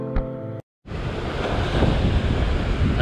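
Ocean swell rolls against the shore during sea fishing near Sydney, Australia. A brief tonal sound and a short silence come first, then a continuous, loud wash of surf and wind noise builds and holds.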